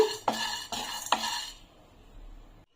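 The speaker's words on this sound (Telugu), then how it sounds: "ఇందులోకి నేను ఒక కప్పు పప్పు వేసుకుంటున్నాను మీడియం ఫ్లేమ్లో పెట్టుకొని వీటిల్ని వేయించుకోవాలి" Lentils dry roasted in a pan on a medium flame: a few sharp spatula scrapes and a light rattle of the pulses against the metal, then a quieter stretch that fades toward silence.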